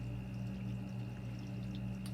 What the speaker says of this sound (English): 2 showers running and a faucet running